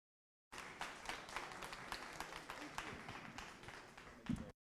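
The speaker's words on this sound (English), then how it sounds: "Please welcome up with a large round of applause, Gabriel Atsu Sikanku" An audience at an esports and game development event applauds as a speaker is welcomed on stage, a sustained crowd clapping that sounds somewhat distant, with a brief louder thump near the end.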